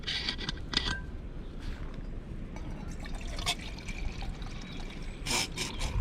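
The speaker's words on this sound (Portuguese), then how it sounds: "juntar meio litro de água" Half a litre of water poured into a small pot set over an outdoor twig campfire, a steady close liquid trickle with brief splashy bursts over low crackling background noise.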